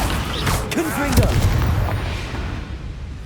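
Confringo fire spell explosions in Hogwarts Legacy: several sharp booming bursts crackle in quick succession over a continuous rumble, with a voice speaking over the blasts.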